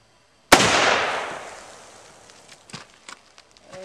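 A single close, sharp rifle shot from a hunting gun being sighted in, with a long echoing decay that fades over a couple of seconds into faint shuffling and handling noises.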